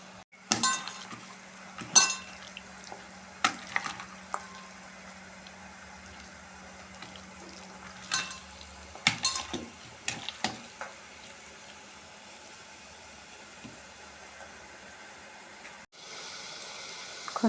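Brinjal chicken being stirred in a frying pan, with scattered clinks of a utensil against the pan over a faint sizzle, some spaced strikes and a quieter stretch with a low steady hiss.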